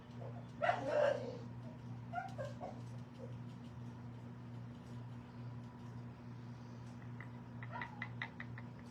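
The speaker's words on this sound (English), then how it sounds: "barking back at your pup" A dog gives a couple of brief barks and yips near the start, then faint scattered barks continue over a steady low electrical hum.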